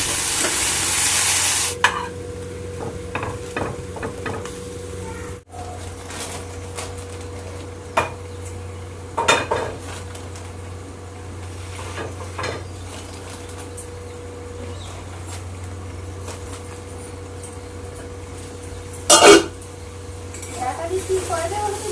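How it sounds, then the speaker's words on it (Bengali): Potatoes fry in a pan with a continuous soft sizzle, broken by occasional scraping and clinking as they are stirred, while voices murmur in the background. "আলু ভাজা হচ্ছে"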